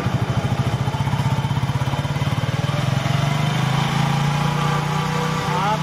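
A small motorcycle engine idling and revving during a mileage carburetor adjustment, a close, rapid, even putter that rises slightly in pitch as the rpm is raised, with a brief voice underneath.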